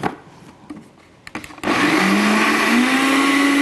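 A kitchen blender whirs at full speed, mixing milk, water and coconut, starting abruptly after a few short clicks and running loud and steady with a rising motor whine to the end.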